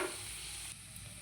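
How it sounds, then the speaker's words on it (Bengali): Salted raw tomato curry stirred in a pan, a faint, steady sizzling hiss with light stirring, no voices. "স্বাদ মতন লবণ লবণটা দিয়ে একটু ভালো করে নাড়িয়ে দেবো"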